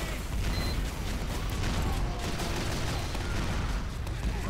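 Critical-hit bullets fired in a video game, a continuous dense rattle of rapid shots with metallic mechanism clatter, moderately loud and steady, with little talk.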